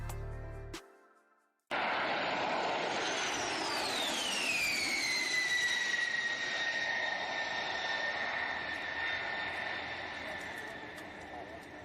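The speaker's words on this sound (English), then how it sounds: "This is a Boeing 52 performing a low pass." A Boeing aircraft makes a low pass, its jet roar rising into a loud sustained whine with a falling pitch sweep and then slowly easing off. A brief burst of other sound comes before it, then a moment of silence.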